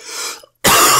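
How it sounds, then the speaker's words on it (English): A single harsh cough bursts out loud and close right after a fainter throaty clearing sound, with a brief silence between them. "It's annoying cough, right?"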